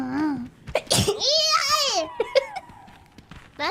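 A small, high-pitched sneeze bursts out near the one-second mark amid a light, girlish voice talking and giggling before and after, close and clear.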